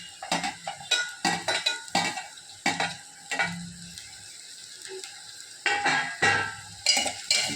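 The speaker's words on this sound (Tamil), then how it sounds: "எண்ணெயிலேயே நல்லா வதங்கணும்." Rhythmic scraping and clinking of a utensil stirring vegetables and green beans sautéing in oil in a pan, with a soft sizzle underneath between strokes.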